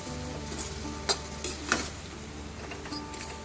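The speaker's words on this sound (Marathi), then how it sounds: "त्यानंतर चवीसाठी मीठ आता आपण हे परतवून घेणार आहोत" Fresh ambadi leaves with salt being stir-fried in a pan, a steady soft sizzle underneath with a few light scrapes and knocks from the spatula against the pan.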